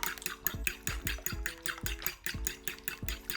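Eggs are beaten briskly with a fork or whisk in a bowl for scrambled eggs, making a steady, rapid clinking rhythm of roughly four strokes a second against the bowl, close and clear with no talking.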